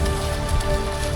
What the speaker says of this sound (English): Out of nowhere, it started raining.